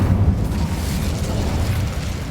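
A fiery Incendio spell blast in the Hogwarts Legacy video game, a low, steady rumbling roar of flame that holds loud and even for a couple of seconds without a sharp onset.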